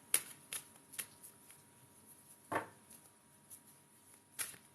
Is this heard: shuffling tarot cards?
yes